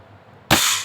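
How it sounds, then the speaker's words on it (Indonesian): A Mag4 pistol fires once as the trigger is pulled, a single sharp, loud crack bursting out after a quiet moment and ringing briefly. "Bila ditekan pelatuk, langsung meledak."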